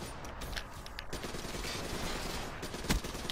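Continuous bursts of fire from an ICR rifle in a shooter video game, fairly quiet and busy, with rapid overlapping shots and a sharper crack near the end.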